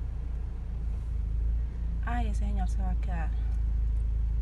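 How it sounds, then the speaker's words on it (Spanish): A small car pushes through deep flood water on a street, a steady low rumble and sloshing wash running throughout while a woman exclaims over it partway through. "Ahí viene tratando un carro de pasar."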